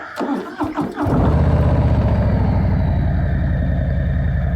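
A 2021 Harley-Davidson Street Bob 114 motorcycle engine cranks with a few starter clicks, then catches and settles into a loud, steady, lumpy V-twin idle that fills the rest of the clip.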